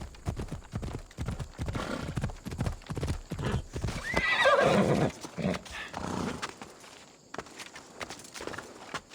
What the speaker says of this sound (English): That must be Spiro. Looks like a sturdy horse.